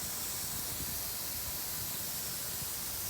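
A tilted 180-degree lawn sprinkler spraying water, a steady broad hiss of spray that stays even and fairly faint throughout with no talk.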